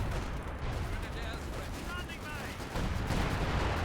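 Gunfire rattles in Company of Heroes 2, a match of OKW against UKF, as a low, busy stream of shots and distant bangs under a commentator's steady talk.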